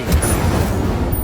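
In Hogwarts Legacy, the Incendio fire spell goes off as a loud, dense rumbling burst of flame that fills the whole short moment, with no speech over it.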